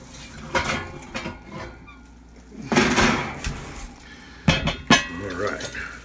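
A preheated Dutch oven is pulled from an oven, with clanks and metallic clinks of the heavy pot and lid, a few sharp knocks amid handling noise, while a person talks nearby.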